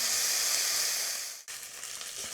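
Onion and garlic with a pinch of salt frying in a pan for a pinto bean curry, a loud continuous close sizzle that briefly dips as if stirred, then resumes at full strength.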